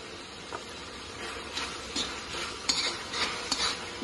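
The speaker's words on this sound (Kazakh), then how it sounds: "Бұны да 2-3 минут қуырып аламыз." Onion and carrot sizzle in a pan for Kazakh kozhe soup while a utensil scrapes and stirs them in repeated strokes, close up, with no voices.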